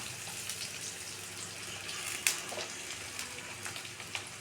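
Sliced onions and tomatoes with a little coriander sauté in a pan for ghee rice with egg thokku, a soft, steady sizzle with faint crackles and a few small pops.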